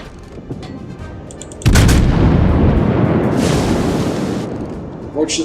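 Naval guns fire in the World of Warships video game: a heavy booming salvo erupts and rumbles loudly for a few seconds, then fades under a lighter background.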